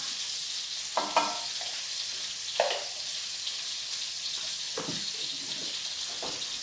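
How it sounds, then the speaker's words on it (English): Pasta and sauce with a little olive oil are stirred in a hot pan, giving a steady soft sizzle broken by a few scraping strokes of the spoon, close by. "Give that a good stir."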